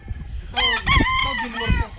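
Gilmore gamefowl rooster crowing once on a farm, a close, clear, drawn-out call lasting about a second over light background noise.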